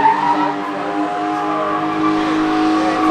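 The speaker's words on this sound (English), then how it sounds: "And they're back out there drifting." Nissan S13 drifting on industrial spec tyres, its engine holding a loud sustained rev while the tyres squeal continuously, close and unbroken.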